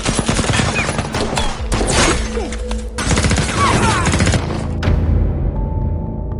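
A rapid exchange of gunfire in a film, dense bursts of shots and sharp cracks overlapping continuously, loud and close, with a brief lull before the shooting resumes.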